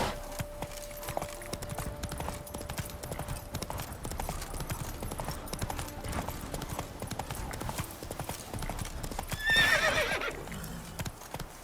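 A horse gallops in The Witcher 3 video game with rapid, steady hoofbeats that run the whole time, and a short whinny near the end. A faint voice is heard now and then.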